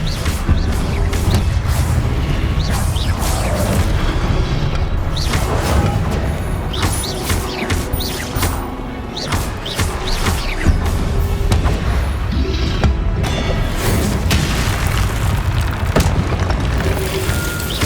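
Expelliarmus and other spell blasts in Hogwarts Legacy: a dense run of loud, repeated booming impacts and crackling magical bursts, one after another with barely a pause, up close throughout.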